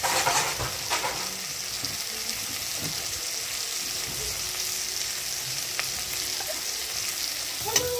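Turmeric, cumin and chilli powders with salt are sautéed and stirred in a pan for a Bengali dhoka curry, giving a soft steady sizzle nearby with occasional utensil scrapes and taps.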